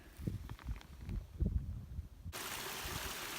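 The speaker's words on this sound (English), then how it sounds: "See this little stream here?" A small mountain stream in Greenland trickles and burbles close by. Uneven gurgles and thumps give way to a steady, brighter rushing flow with no voices.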